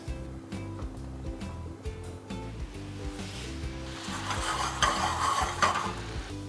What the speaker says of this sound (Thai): จากนั้นเนี่ยเราก็จะไปตั้งไฟนะครับเคี่ยวให้มันข้นขึ้นเล็กน้อย